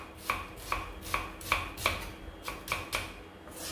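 An onion is cut into large pieces on a board, with eight crisp, evenly spaced knife chops landing in a steady rhythm close by, and no talking.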